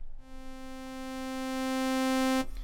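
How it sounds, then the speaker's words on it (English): A Yamaha MODX synth string patch built from saw waves holds one sustained note whose volume swells slowly before cutting off sharply at the end. "So a synth string sound has a gradual increase in volume"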